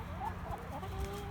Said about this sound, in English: He's my rooster.